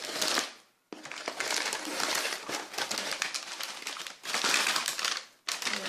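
Packaging of a Naked Smoky makeup palette being unwrapped: close crinkling and crushing of paper or plastic in several bursts with brief pauses, no talk.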